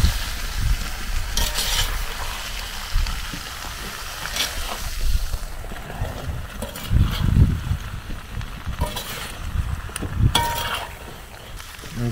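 Oiled potatoes and vegetables get stirred in a pot over an outdoor fire beside a whole chicken, soft sizzling under scraping and clunking of a utensil against the pot in uneven bursts.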